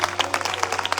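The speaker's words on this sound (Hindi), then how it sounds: "तालियां बजाएं खुदाओं के जलाल के लिए।" A church congregation claps during a worship service, a brief burst of fairly close, uneven clapping over a steady low hum.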